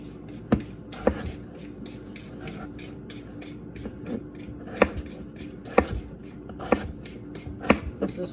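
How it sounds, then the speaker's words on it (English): Knife chopping peeled potatoes into cubes on a cutting board for mashed potatoes, a series of sharp, close taps at an uneven rhythm, with soft handling noise between cuts and no talking. "We're gonna cut our potatoes into cubes"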